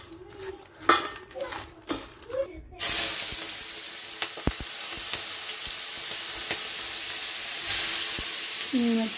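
Red prawns hit a hot pan and burst into loud, steady frying sizzle after a few opening clinks of utensils, with occasional sharp taps of stirring.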